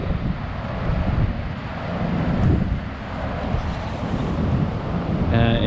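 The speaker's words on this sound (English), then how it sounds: "And the wind is gusting in a little bit." Gusty wind buffets the microphone beside a river mouth with rough sea on the coast at Haast, a broad roaring rush that swells and eases in waves, loud and close throughout.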